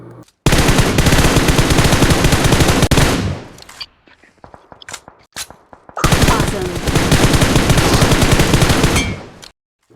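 Gunfire in a shooter video game: loud, sustained automatic bursts fill two long stretches, separated by a short gap of scattered single shots, close and dense.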